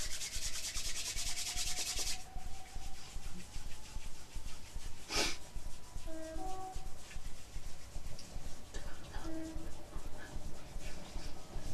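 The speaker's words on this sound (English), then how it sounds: "Rub the hands together again and polish in the back." Hands rubbing together in a steady, regular rhythm during a gentle exercise session, soft repeated swishing strokes continuing throughout, with a brief clap-like noise partway and faint background tones.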